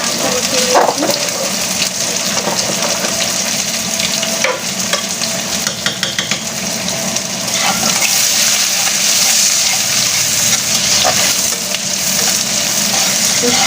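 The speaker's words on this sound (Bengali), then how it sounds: "পেঁয়াজটা হালকা ব্রাউন করে নেব" Chopped onions frying in a pan of oil, a steady loud close sizzle with occasional stirring scrapes throughout, no voices.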